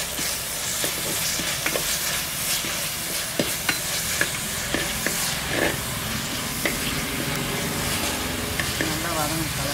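Curry ingredients for a village-style mutton curry sautéing in a pan, a loud continuous sizzle with repeated scraping and clattering strokes of stirring throughout.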